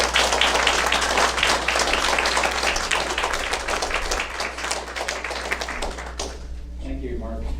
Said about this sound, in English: So let's just give it up for Todd and give him your applause.